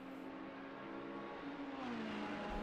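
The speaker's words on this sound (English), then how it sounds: "It's not a racing game without the sounds of the cars" Race cars circle the Nurburgring in a racing video game, a steady engine drone with gliding pitch shifts as cars accelerate and pass, fairly faint and unbroken.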